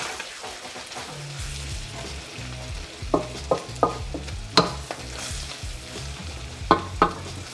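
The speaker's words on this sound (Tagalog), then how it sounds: "Haluin nyo lang ng konti. Konting halo pa." Chicken pastil filling sizzles in a pan while a spatula stirs it, with a steady frying hiss and a series of sharp scraping knocks spaced a second or so apart.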